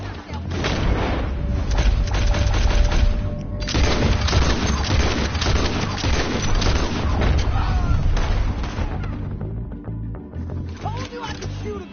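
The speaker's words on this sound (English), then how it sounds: "Told you I could shoot a gun, didn't I?" Gunfire from a character in a PS4 video game, dense rapid shots and booming blasts running almost nonstop, with in-game characters talking over the shooting.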